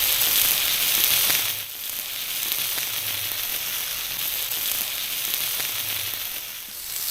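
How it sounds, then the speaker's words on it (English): Steady, broadband sizzling of food frying on the hot plate of a portable 600W electric BBQ grill, loud and close, hissing continuously with faint crackles and no talking. "You can hear that sizzle."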